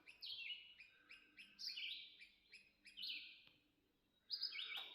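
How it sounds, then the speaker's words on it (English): Birds chirp outdoors near an Amish-style cabin on hunting property, with repeated bright tweets and short song phrases coming in bursts, fairly close and clear over a quiet background with no talking. "I'll be quiet for a minute and let you hear the birds"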